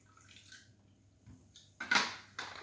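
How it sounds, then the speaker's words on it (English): Sparkling water poured into a whiskey cocktail in a glass: a faint trickle, then a brief louder fizzing splash near the end, close and alone. "And add a bit of sparkling water."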